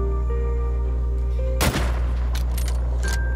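A single loud gunshot from the video game The Red Lantern cracks out against a steady hum of game music, with a few fainter sharp sounds trailing after it.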